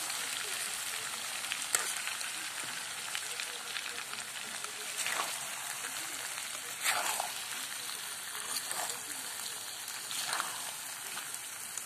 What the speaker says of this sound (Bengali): এগুলো ভালো করে মেখে তারপরে এই ভাজার মধ্যে দিয়ে দিল